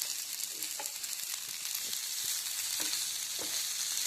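Boiled potatoes frying and being stirred into a spice mix in a pan, a steady close crackling sizzle with occasional soft scrapes of the spoon, heard alone without talk.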